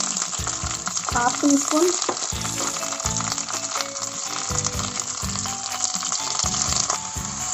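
Curry leaves, green chilies and ginger-garlic paste fry in hot oil with a loud, dense, continuous sizzle, broken by spoon clatter against the pan and a brief voice speaking.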